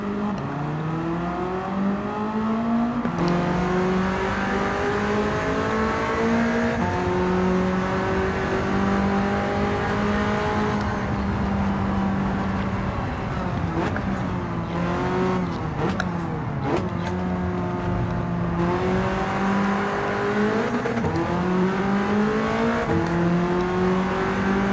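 A BMW M3 E30 race car fitted with a Toyota Corolla wing revs hard in Gran Turismo 7. The engine note climbs and drops repeatedly through gear changes, loud and continuous for the whole stretch, with a brief tire squeal.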